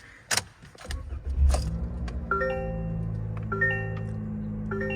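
Several short electronic warning chimes from a 2023 Toyota Corolla LE sound in a steady pattern over a low engine hum, after a click and a brief whir, close by.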